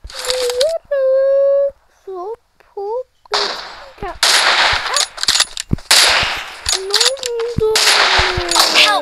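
Bursts of video game gunfire from a shooter match, sharp cracks and rapid volleys mixed with game tones and electronic blips, with a person's excited voice over parts of it.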